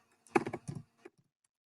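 A short quick burst of keystrokes on a computer keyboard, several close clicks followed by one or two softer taps, near and clear with no talk.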